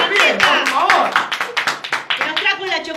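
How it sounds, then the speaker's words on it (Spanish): Radio studio audience clapping for Sandrita on a live broadcast, a brief burst of close, uneven handclaps with voices talking over it throughout. "Un aplauso y de pie, por favor"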